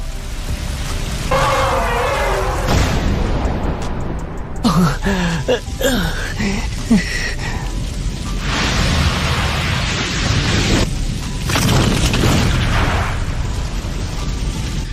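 A fire style jutsu in a Naruto Shippuden anime battle erupts as a loud, sustained roaring blast with crackling bursts and booms, and a dubbed voice briefly cuts in mid-way.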